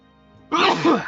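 One loud, close sneeze bursts out after a moment of quiet and trails off in a breathy rush.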